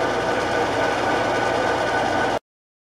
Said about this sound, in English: And for this drill bit, I'm going to slow things down. Just to make it so I don't burn my bit out.